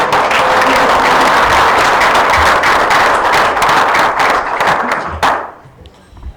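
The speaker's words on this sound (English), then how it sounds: "Let's give the kitchen staff a round of applause for the dinner." A banquet crowd at a fire department installation dinner gives sustained, loud applause for the kitchen staff, a thick burst of clapping that drops off sharply near the end, leaving quieter room noise.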